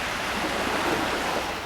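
Pacific Ocean waves washing near an over-water hut in Tahiti, a steady broad rush of surf close by with no voices.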